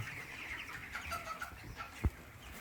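Broiler chickens, about 23 days old, cluck softly in a flock at feeding time, faint scattered calls with one short sharp knock near the end.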